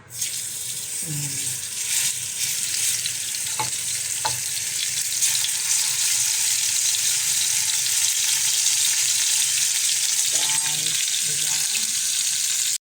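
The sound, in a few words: beef steak frying in a pan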